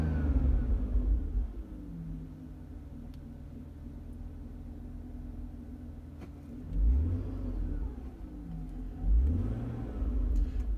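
A BMW car engine idles with a low steady rumble, then is revved twice in short bursts, each rise in pitch falling back to idle, recorded close by.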